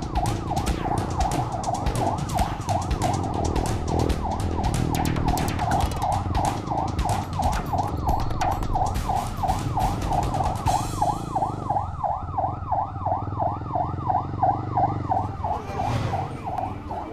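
An ambulance siren wails continuously in steady repeating sweeps, loud and close, with road traffic rumbling underneath throughout.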